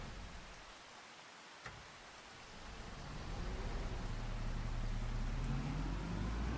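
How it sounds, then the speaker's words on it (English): Steady rain falls outside on a farm, a soft hiss that thickens into a louder, even downpour over the last few seconds, with no talking. "Maybe it'll stop raining."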